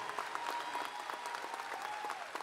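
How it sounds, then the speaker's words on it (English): Audience applause at an undergraduate commencement ceremony, a steady wash of many hands clapping at some distance, fairly faint and continuous throughout. "Let's give another big warm round of applause to our guests, Kathy and Jimmy."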